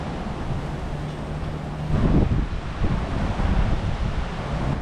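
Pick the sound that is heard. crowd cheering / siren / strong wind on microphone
strong wind on microphone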